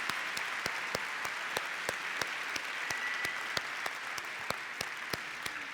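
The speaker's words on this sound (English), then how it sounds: "let's give one big last round of applause" A large audience at Symphony Hall, Birmingham claps steadily in sustained applause after a live show, with a few sharper claps standing out over the dense, even roar.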